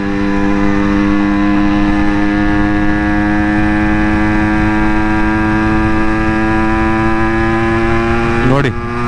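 A motorcycle engine drones steadily in 4th gear on a highway near Nandi Hills, a loud, even hum with strong harmonics that stays constant throughout, then a sharp blip of wind or handling noise near the end.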